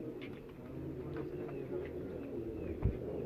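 Pet pigeons belonging to a pigeon keeper give soft, low, repeated coos close by. The cooing sits over a steady background hum, with a faint chirp here and there and no talking.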